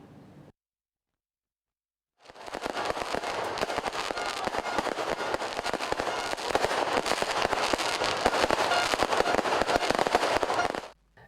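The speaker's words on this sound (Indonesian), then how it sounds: "ribuan kembang api dinyalakan dan dilepas ke udara" After a brief quiet gap, a dense, continuous barrage of crackling firework bursts goes on for several seconds, loud and steady before cutting off, at a crowded New Year's Eve celebration in Puputan Badung square, Denpasar, Bali.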